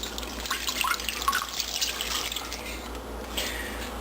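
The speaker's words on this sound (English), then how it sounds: "We're gonna put enough water for the chicken." Water runs steadily into a pot for cooking chicken and rice, a continuous splashing trickle with brief drips, fairly close and alone without talk.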